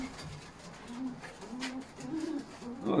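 Pigeons coo repeatedly nearby while being fed, with soft overlapping low calls and faint rustling in a damp outdoor spot.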